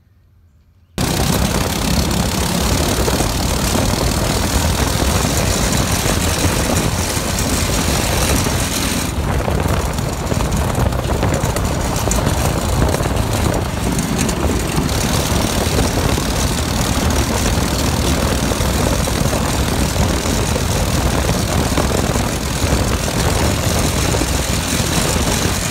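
A Predator 212 small engine fitted with 18 lb valve springs runs loud and steady close by after a short silent start, a continuous rough, rapid firing drone with no talk.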